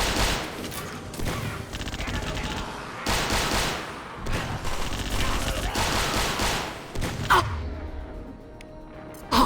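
Impact shots and weapon fire from the Mass Effect 2 video game come in bursts of loud, rapid gunfire. They are separated by brief lulls and end on a short final blast.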